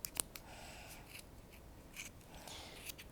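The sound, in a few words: scissors cutting cardboard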